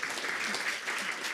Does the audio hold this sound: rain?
no